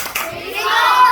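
Children at an elementary summer church camp clap their hands, giving a short burst of close claps with a voice mixed in over about a second.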